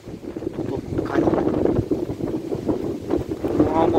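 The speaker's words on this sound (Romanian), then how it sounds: "O, cum bate vântul." A strong wind blows before a storm near a village, buffeting the microphone with loud, gusty low rumbling and rustling that rises and falls in surges.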